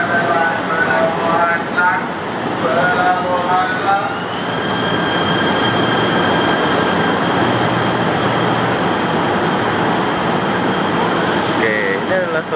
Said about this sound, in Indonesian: ini adalah suasana di stasiun KL Central